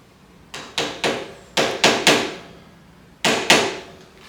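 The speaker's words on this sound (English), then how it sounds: "I'm just going to spread the lower triple clamp a bit so it slides easily inside" A tool repeatedly strikes the lower triple clamp on the front end of a 1977 BMW R75/7 motorcycle, giving eight sharp metallic knocks in uneven groups, close and clear with no talking.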